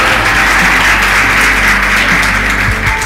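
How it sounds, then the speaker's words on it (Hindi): An audience at a religious gathering claps steadily and loudly, a dense continuous applause lasting a few seconds. "बजाओ ताली।"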